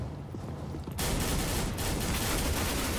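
Loud automatic gunfire erupts after a quieter second in Counter-Strike: Global Offensive, continuing as dense, rapid shots to the end.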